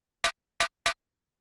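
Three short, bright percussive hits from a top-layer snare sample in a drum-and-bass track, crisp and dry, sounding alone in quick succession.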